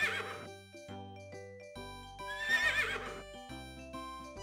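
A cartoon horse neighs twice in bright, shrill whinnies over a gentle musical backing with light clip-clop-like taps, no speech.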